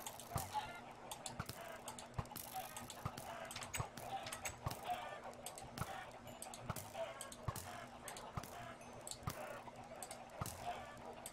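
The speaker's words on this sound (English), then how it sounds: "Bad chickens. Bad chickens." Chickens in a video game clucking in repeated short bursts, a busy irregular patter of clucks over a faint constant hum, fairly quiet overall.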